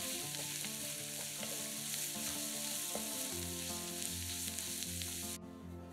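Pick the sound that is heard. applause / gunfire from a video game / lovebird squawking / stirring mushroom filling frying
stirring mushroom filling frying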